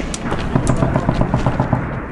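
A gunfire barrage at a military outpost comes as a dense, continuous rattle of overlapping shots and booms, loud and unbroken across the whole stretch.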